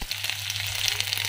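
Boiled lentils and raw banana sizzle in hot oil during tempering, a dense, steady crackling fry heard close up with no talking.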